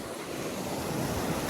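Sea waves surge and break over rocks along the edge of a bay, a steady broadband wash of surf with gusting wind noise on the microphone, close and continuous throughout.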